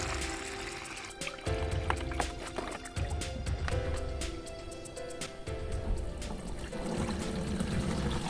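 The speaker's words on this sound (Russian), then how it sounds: "Залил я воды 10 литров" Water pours steadily through a wide opening into a garden sprayer tank, about 10 liters, a continuous liquid splashing and gurgling with brief pauses between pours.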